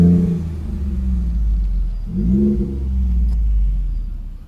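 A 2016 Ford F150 with the 3.5 EcoBoost engine and a custom catback exhaust pulls away, giving a steady low rumble that swells as it accelerates, close and loud, with no talk over it.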